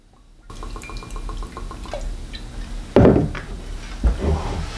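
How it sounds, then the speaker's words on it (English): Bushmills Irish whiskey glugs from the bottle into a fresh glass, a quick series of close liquid drips and pours followed by a couple of louder splashes and clinks. "Get a fresh glass here. Again, let's test out our pour."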